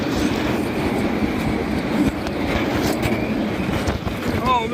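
A B&M roller coaster train, Georgia Scorcher at Six Flags Over Georgia, rattles and roars steadily on a bumpy ride, a continuous loud rumble with faint squeals near the end.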